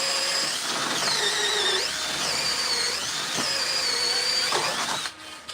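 A power tool drives a lag screw into a wooden gate in a shop, giving a steady, close, high whining drive that holds for about five seconds, dips in pitch now and then, and stops abruptly.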